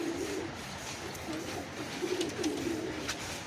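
Giribaz pigeons coo nearby in a series of soft, rolling calls that repeat at intervals over a low background murmur.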